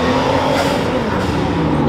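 A Nissan R34 arrives at a car meet with a loud, close, continuous engine roar and road noise throughout the short moment.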